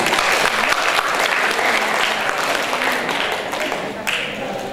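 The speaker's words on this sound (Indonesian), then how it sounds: "Tepuk tangan juga." Loud applause from a large audience at a university faculty reunion, a dense wash of clapping with crowd murmur that runs throughout and slowly fades a little toward the end.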